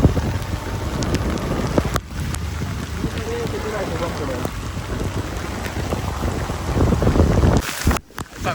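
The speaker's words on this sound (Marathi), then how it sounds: "वाऱ्याने एवढा येतोय ना जोरात पाऊस" Steady roar of heavy wind and rain, buffeting close to the microphone throughout, with a brief drop near the end.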